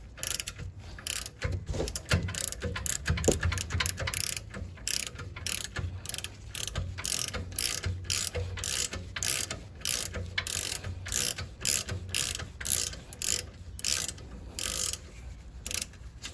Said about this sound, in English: Now you take the 7mm Allen socket.